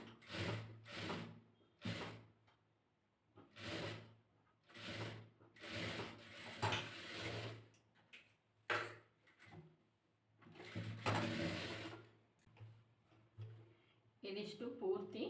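Sewing machine stitching along a folded edge of blouse fabric, in repeated bursts of rapid mechanical whirring separated by short pauses, close and clear, with no talk.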